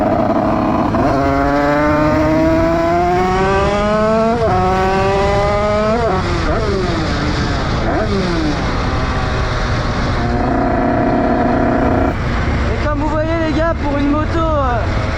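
Derbi motorcycle with a mid-range richness fault, the two-stroke engine revving up repeatedly in rising sweeps that stumble and drop back, loud and close throughout.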